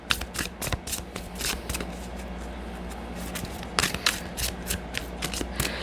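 Angel Medicine Oracle cards are shuffled by hand, a rapid series of crisp riffling flicks and slaps in bursts up close, with no talking.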